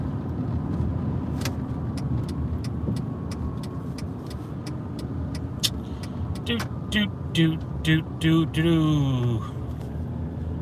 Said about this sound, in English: We're driving. We are driving.